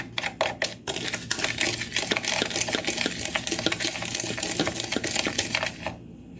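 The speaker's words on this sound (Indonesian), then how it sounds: "Kemudian aduk sampai tercampur rata." A spoon stirs a clear agar-agar pudding mixture in a pot, a dense, busy scraping and clinking close up that runs continuously for several seconds after a few sharp taps at the start, then stops.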